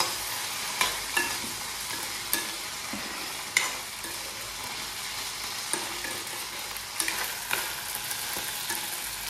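Food frying in a pan is stirred vigorously, with a continuous close sizzle punctuated by repeated scraping clicks and knocks of the spoon at an irregular rhythm, and no voices.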